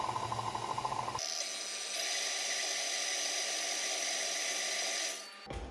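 Electric mixer creaming butter and castor sugar for an old-school sprinkle cake, with a brief pulsing whir that shifts into a steady high motor whine held for several seconds, then cutting off at the end.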